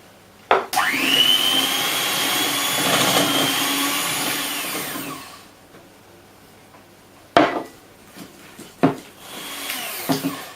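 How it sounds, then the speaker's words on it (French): An electric hand beater whirs loudly for about five seconds, its pitch rising as it starts, while mixing icing sugar and milk for cupcakes in a bowl. Sharp clatters and knocks of the bowl and utensils follow. "Et on va le travailler avec le batteur."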